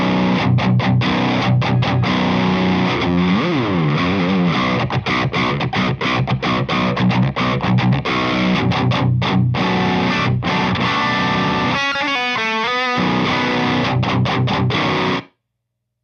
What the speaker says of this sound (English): This is the red side distortion setting on the King Tone.